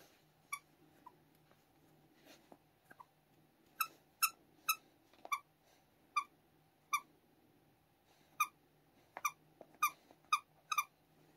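Rubber squeaky toy shaped like a head, chewed by a puppy on a homestead, giving a string of short sharp squeaks in irregular bursts, some doubled, close and fairly loud over a quiet low hum.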